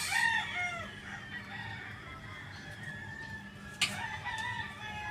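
Chickens cluck and a rooster crows nearby, over a steady outdoor hum, with a short sharp squawk partway through.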